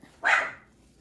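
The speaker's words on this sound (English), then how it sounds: "She's been barking a lot lately." A single sharp dog bark rings out close by, brief and loud, then quiet.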